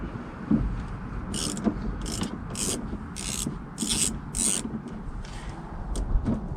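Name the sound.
ratchet loosening Volvo car battery negative terminal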